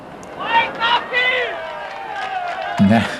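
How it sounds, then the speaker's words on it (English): Roadside spectators cheer and shout at a lone rider in the 1996 Giro di Lombardia, voices rising in several loud bursts with a brief clatter near the end, no commentary over it. "You can hear the crowd shouting him by name"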